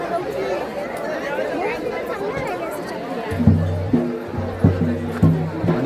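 Dense crowd chatter fills the Jejuri temple grounds, a steady hubbub of many overlapping voices close around, with louder tonal calls or chanting cutting through in the second half.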